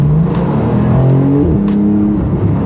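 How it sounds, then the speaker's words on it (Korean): A red Porsche 911 GT2 RS engine runs loud and close, its low throaty rumble rising and shifting in pitch as it revs, with no voices over it. "시동을 걸어볼게요."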